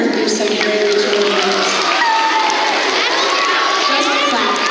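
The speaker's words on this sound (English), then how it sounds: "a nice round of applause for kindergarten through second grade children" Young kindergarten-through-second-grade children at a school assembly get a steady wash of crowd applause and cheering that fills the whole stretch, with scattered shouts and voices mixed into the dense clapping.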